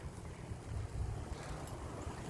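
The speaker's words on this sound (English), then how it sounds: "It is super windy out here today" Steady gusting wind roars across the microphone outdoors, a constant low rumble with no voices.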